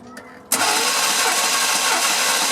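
A 1998 Chevy 1500 Cheyenne engine cranks during a diagnostic test, a short starter whir before it catches and settles into a loud, steady, close-up running roar.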